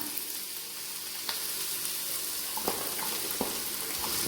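Garlic fries in oil in a pan for a garlic pickle, making a steady, moderate sizzle and crackle with a few sharper pops and light stirring clinks, and no voices.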